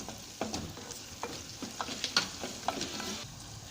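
A spoon scrapes and stirs village fish curry in a pan, with soft irregular knocks and scrapes over a faint steady sizzle, close and quiet with no talking.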